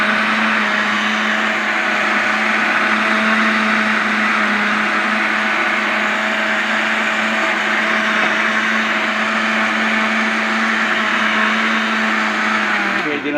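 An electric blender grinds a natural feed supplement for chickens, running as one loud, steady, high whirring roar that holds for about thirteen seconds before winding down at the very end.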